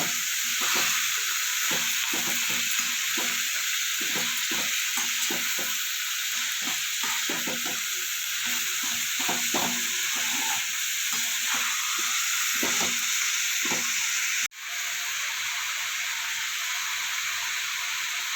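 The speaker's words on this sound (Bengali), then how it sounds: "এবার এটাকে ভালো করে নাড়াচড়া করে নেব" Shredded cabbage sizzles steadily in a pan while being stirred, with a continuous frying hiss and repeated scraping strokes, ending with a brief clatter near the end.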